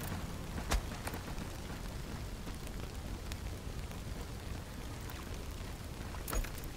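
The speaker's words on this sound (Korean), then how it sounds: "아, 나무 냄비에도 물 담을 수 있구나" Water poured into a wooden pot in the video game Durango, a soft continuous rushing pour under a steady background wash, with a couple of faint clicks.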